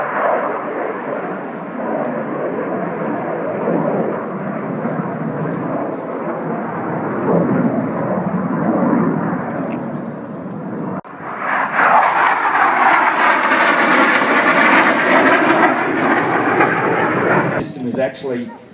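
Jet aircraft engine roaring at an airshow day at Temora, a steady loud rumble that swells into a brighter, harsher roar partway through as thrust builds, with a voice talking over it.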